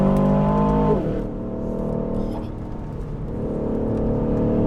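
An Aston Martin DBX 707 SUV with four-wheel drive pulls hard out of a corner on a race circuit, its engine note rising loud and close, dipping at a gear change, then climbing again.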